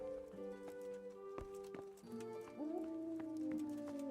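Horse hooves clip-clop in Kingdom Come: Deliverance on PC, a steady trotting rhythm with sharp hoof strikes, mixed with game ambience and musical tones, fairly quiet overall.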